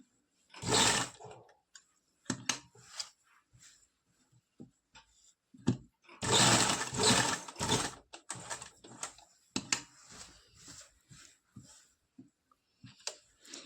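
A sewing machine stitches a button placket onto a collared kurta. There are two sustained whirring runs of stitching, and short bursts and scattered mechanical clicks fall between them in a quiet room with no talking.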